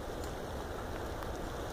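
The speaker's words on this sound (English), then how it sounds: "It is raining out right now." Steady rain falls outdoors, a dense continuous hiss with faint scattered drops throughout and no voices.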